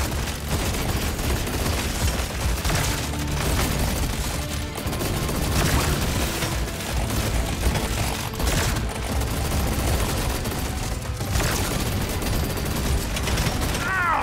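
Deep Rock Galactic: Survivor combat in the Crystalline Caverns, with continuous loud rapid gunfire hammering a dreadnought, dense and unbroken, with booms and impacts throughout and a voice talking underneath.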